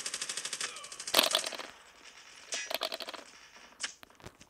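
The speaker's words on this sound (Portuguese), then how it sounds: "Tô levando tiro nas costas aqui" Rapid bursts of automatic gunfire from a video game, a long rattling volley followed by shorter clusters of shots and sharp single cracks.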